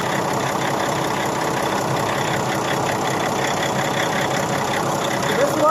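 A vehicle engine idles steadily and close by, a continuous even rumble with a slight rhythmic knock, running during a fuel pressure sensor check.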